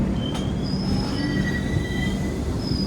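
Wheels of a Puri–Ahmedabad superfast express squeal steadily as the train runs near Bhilai Power House station, with thin high-pitched tones over a constant close rumble of the rails and no voices.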